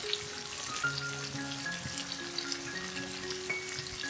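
Vegan pizza tomato sauce stir-fried in a pan with salt, pepper, sugar, black pepper and apple cider vinegar, giving a steady close sizzle with soft scraping stirs throughout, no talking.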